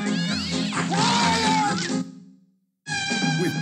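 Cartoon kittens from Disney's The Aristocats meow in high, wavering voices, several overlapping cries for two seconds, a brief silence, then another bright meowing burst, loud and close.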